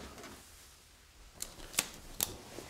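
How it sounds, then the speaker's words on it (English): The shutter of a Fujifilm X-H2 camera fires three crisp, close clicks, spaced unevenly over a quiet background. "This shutter is so smooth and silky and creamy"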